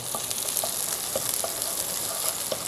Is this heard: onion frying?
yes